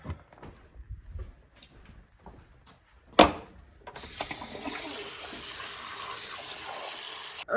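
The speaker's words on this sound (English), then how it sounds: "now we're gonna fill this with water" After a few quiet clinks and a sharp knock, a kitchen tap opens and water runs steadily into a pot, a loud continuous rushing hiss close to the sink.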